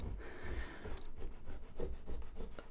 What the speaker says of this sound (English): I just rub the compound on it.